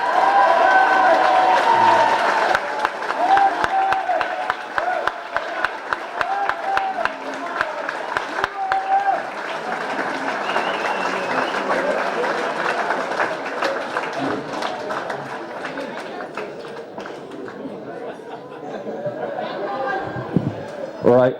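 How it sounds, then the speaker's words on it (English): Applause and cheering at a sports club victory dinner dance, a large crowd clapping loudly at first, then fading into chatter and mixed voices of people talking. "Give a big round of applause to Kit O'Halloran, please."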